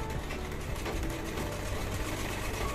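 Sewing machine running steadily while stitching a blouse, a continuous close mechanical whir with no pauses and no talking.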